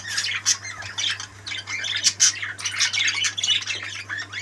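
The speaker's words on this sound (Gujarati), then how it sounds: "એ છે આ પોપટ." A budgerigar lets out repeated harsh, shrill squawks at close range, in irregular bursts over a low steady hum.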